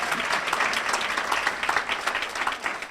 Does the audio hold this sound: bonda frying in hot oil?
no